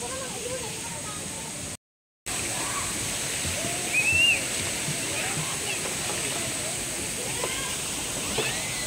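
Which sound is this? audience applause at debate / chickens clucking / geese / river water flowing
river water flowing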